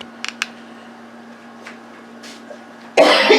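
A single harsh cough bursts out near the end, loud and close, caused by habanero pepper fumes while cooking shrimp-stuffed habaneros; a few faint clicks and a low electrical hum precede it in an otherwise quiet room.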